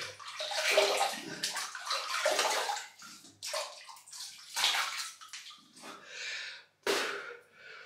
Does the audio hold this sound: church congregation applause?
no